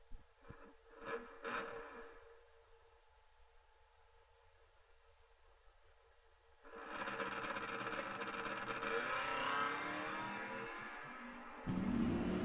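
A Plymouth Duster and another car launch at an old-time drag race, quiet idling giving way to a loud rising engine roar that builds and sustains, then surges again near the end.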